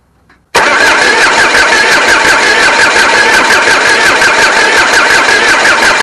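A diesel car running on used frying oil, with a faulty injection pump, cranking on the starter after a moment of near silence, a loud, steady, rapidly pulsing whir that continues without the engine catching, close by.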